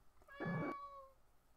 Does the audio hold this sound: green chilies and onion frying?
no